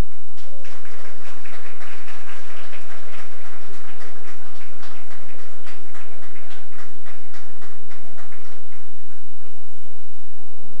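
Applause from a live audience welcoming a group onto a stage at an evening event, dense and steady for several seconds before thinning toward the end, with some talk beneath it.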